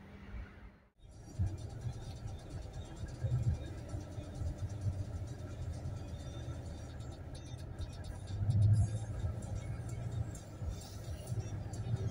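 A truck in Norway rolls forward with a steady low engine rumble that swells briefly partway through, heard from inside the cab while a voice talks over it.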